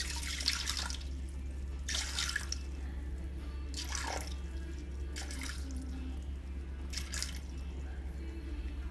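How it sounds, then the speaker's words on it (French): Water is poured in several short splashing bursts into a Thermomix mixing bowl, 200 g of it measured out for Tunisian fricassé dough, with quiet pauses between each trickle. "On commence par mettre dans notre bol 200 g d'eau."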